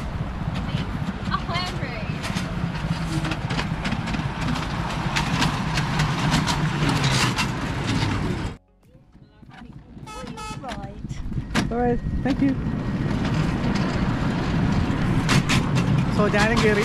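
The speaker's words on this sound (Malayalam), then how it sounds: "വളരെ മിനിയേച്ചർ ട്രെയിനാണ്." A miniature steam train on the Leighton Buzzard railway runs with a steady, loud rumbling and clattering that drops away briefly midway before building again, with voices talking over it.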